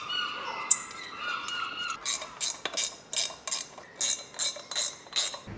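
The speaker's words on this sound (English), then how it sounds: "these birds are really annoying" Repeated bird calls chirp in short regular bursts, fairly close and clear, after a few seconds of quieter, softer calling at the start.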